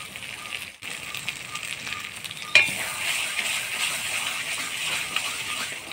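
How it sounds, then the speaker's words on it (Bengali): Spiced masala with turmeric and salt frying in a pan, a steady broadband sizzle with a brief dip near the start and a utensil scrape and stir after which the frying grows slightly louder, close by with no talk. "মশলাটা ভালো করে নাড়াচাড়া করে নিলাম"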